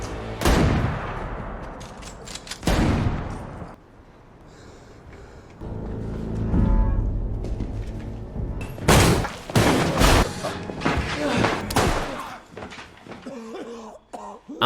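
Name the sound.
pistol gunshots from video game The Last of Us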